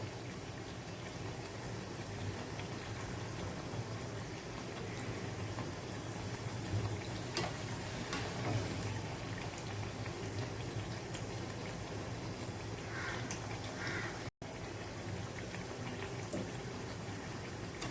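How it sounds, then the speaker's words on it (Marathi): Potato slices frying in a pan, a faint continuous crackle and sizzle holding steady throughout with no talk over it. "एका साईडने चांगले 2 ते 3 मिनिटं फ्राय करून घ्यायचे आहेत."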